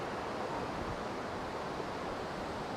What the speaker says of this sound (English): So right now we're at D Street Beach, and popular surf spot.